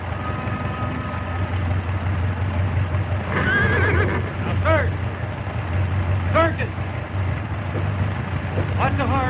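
A horse whinnies several times in loud, wavering neighs over a low engine-like rumble, with some nearby activity and movement in the background.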